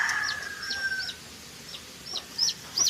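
A native hen clucks near her chicks, with short high peeps scattered throughout, a longer call at the start and brief chirps at the end, close and moderately loud.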